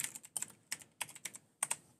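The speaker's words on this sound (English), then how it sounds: "they are typing" Typing on a computer keyboard during an esports League of Legends match: quick, quiet clicks arriving in short irregular bursts with brief pauses, close by and alone.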